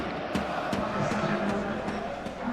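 A stadium crowd at a PES 2021 football match, PSG against Arsenal in a Champions League final, roars as a continuous wash of cheering with sharp rhythmic surges, and a voice talks over it.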